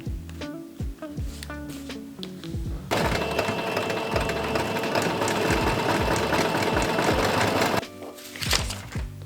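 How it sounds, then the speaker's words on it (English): A sewing machine stitches the bra cups of a Tifa cosplay, its needle chattering in a rapid, close, steady run of about five seconds, bracketed by softer handling clicks and fabric rustling before and after. "The center needs to be sewn as well."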